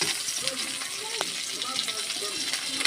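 Ginger and garlic stirred in a frying pan, with a soft, steady sizzle and brief scraping and clinking of the spoon against the pan, heard close up and fairly quiet.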